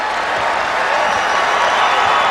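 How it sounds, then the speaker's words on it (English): Loud, continuous crowd roar from a packed college basketball arena during a Wake Forest vs. Louisville ACC game, steady broadband cheering filling the whole stretch with no pauses. "The crowd, which revolted in the first half, is now fully behind the hottest team in the ACC"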